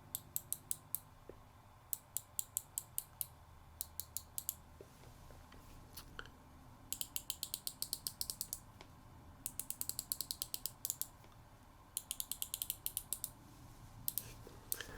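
Repeated crisp ratcheting clicks from the unidirectional bezel of a Heuer 1000 Professional dive watch as it turns, in quick bursts separated by short pauses, close and quiet.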